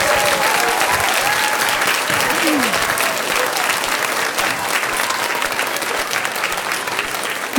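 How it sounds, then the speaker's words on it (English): An audience at an elementary school spring musical of The Lion King Kids applauds in a sustained, dense burst of clapping that carries on evenly for several seconds with a few scattered cheers. "So let's just give them another round of applause."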